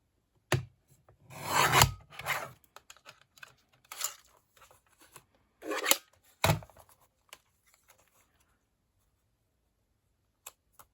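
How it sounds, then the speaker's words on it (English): Paper being trimmed for a junk journal, giving a few separate bursts of close, dry rasping cuts with pauses in between and no talking. "So I'm just going to trim that"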